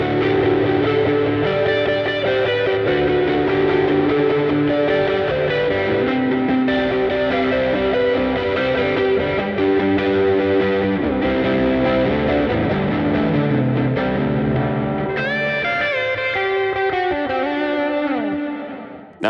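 Electric guitar through a Line 6 Helix Prize Drive distortion with the bass cut, playing sustained distorted chords and notes with a thinned low end, loud and continuous, then tapering off at the end.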